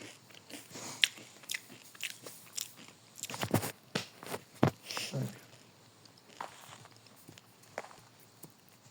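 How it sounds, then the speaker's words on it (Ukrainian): Crunchy chewing and biting sounds from a Minecraft tsunami-survival game, a series of close, irregular crisp bites and munches scattered through the stretch, with no talk over them. "Що ти жуєш?"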